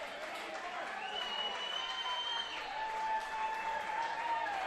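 Crowd at a college baseball championship game between Santa Fe and Chipola cheers and applauds steadily, a broad wash of noise with whistles rising over it.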